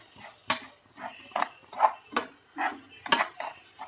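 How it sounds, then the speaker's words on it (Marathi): Semolina is roasted in a kadhai and stirred with a utensil, giving a series of sharp scraping clicks and soft shuffles against the pan at an uneven rhythm, close and fairly quiet with no voices. "गॅसची फ्लेम कमी जास्त करून रवा भाजून घेऊयात।"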